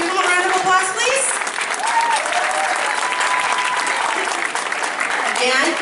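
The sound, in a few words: audience applause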